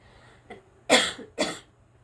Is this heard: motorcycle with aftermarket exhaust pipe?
no